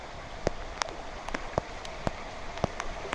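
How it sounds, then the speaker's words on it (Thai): Rain falling in a forest in Phatthalung, Thailand, with scattered distinct drops tapping a surface, soft steady patter in the background. "ฝนก็ตก นี่เห็นไหม"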